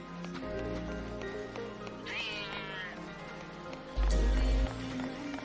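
A cat meows in Final Fantasy XIII-2, a rising, wavering cry in the middle of the scene, heard over steady game music and effects, with a sharp low thump shortly after.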